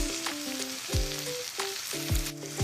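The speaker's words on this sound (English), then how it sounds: "we're going to continue to let it simmer for 4 minutes" Sloppy joe meat sauce simmering in a pan over medium-low heat gives a steady, soft sizzle and bubbling for a few seconds, with no voices.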